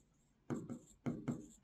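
Chalk or marker writing an equation on a board, three short scratchy strokes close by, with no talking.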